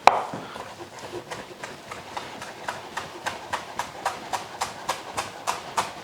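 A knife slices fresh coriander on a cutting board in a steady, even rhythm of crisp, close taps, about two or three each second, with little else heard.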